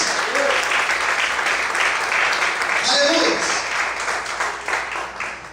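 A church congregation applauds in steady, dense clapping that fills the whole stretch, while a preacher's voice calls out over it.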